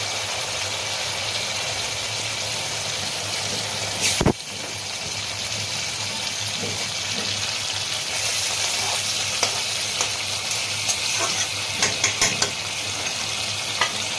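Hilsa fish pieces fry in a pan for a mustard-paste dish, producing a dense, constant sizzle heard up close, with one sharp clatter early on and a few small pops and crackles later.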